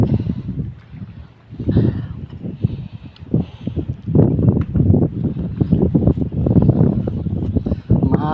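Steady gusting wind buffets the microphone at a fishing spot throughout, a loud continuous roar with rising and falling surges.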